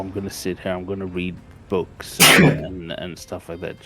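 A sharp, loud sneeze bursts out midway through a man's speech, a single close noisy blast, with talking before and after it.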